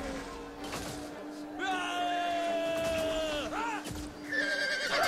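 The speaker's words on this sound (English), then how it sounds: "You can see my allies' horse archers here firing." Horses of horse archers neigh and whinny in a Total War Attila battle, several drawn-out whinnies rising and falling over a steady battle din, loud and close.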